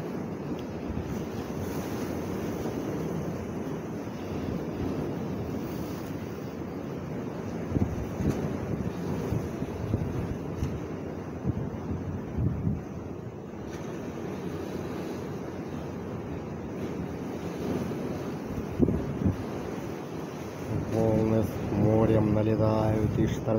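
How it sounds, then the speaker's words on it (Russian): Stormy autumn sea waves crash on the shore in a strong wind, a steady, loud, broad roar of surf with gusty wind noise throughout and a voice briefly heard near the end. "Налетают волны с моря и штормят на берегу."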